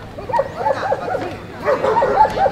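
Dogs bark at an outdoor dog show in the Philippines, two quick runs of sharp repeated barks with a voice talking faintly in the background.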